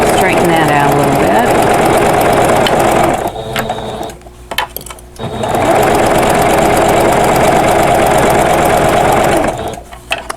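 A sewing machine stitching a quilted pillow cover runs in a fast, loud mechanical whir for several seconds, pauses briefly, then runs again at length, with a voice talking during the pause.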